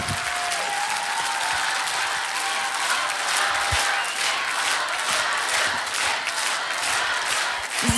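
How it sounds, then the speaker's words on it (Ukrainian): A concert hall audience rises in a standing ovation for a singer after his rendition of a song, dense sustained applause filling the room at steady loudness, with a faint lingering tone at the start. "Зала аплодує стоячи."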